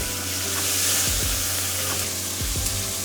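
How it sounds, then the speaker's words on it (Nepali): Chicken curry with tomato sizzles steadily in a pan for a Bhutanese dish, a loud continuous fry broken by a few short scraping stirs. "टमेटो पनि लगाएर फ्राई गर्नुपर्छ।"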